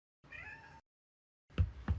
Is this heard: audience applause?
no